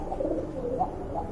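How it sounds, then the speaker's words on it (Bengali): Pigeons at a market stall coo softly and steadily, their low murmuring calls close by and continuous with no voices over them. "কবুতর ডাকগুলো দেখেন মাশাআল্লাহ,"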